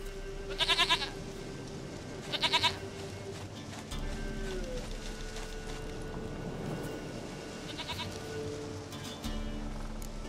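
A goat bleats in The Witcher 3: Wild Hunt, two loud wavering bleats close together early on and a third, shorter call later, over a low steady game ambience with rumbling background sound.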